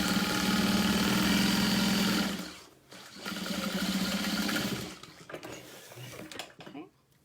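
A sewing machine stitching a zippered center divider into a tote, running in two long steady buzzing bursts with a brief stop between, then slower intermittent stitching and mechanical clicks, close up.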